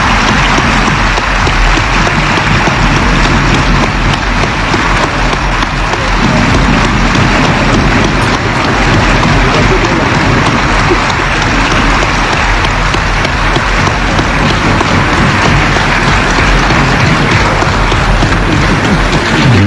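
Sustained, dense applause fills a large hall at the 1993 Sovereign National Conference in Chad as the assembly adopts its rules by acclamation, a loud, unbroken clapping roar lasting throughout.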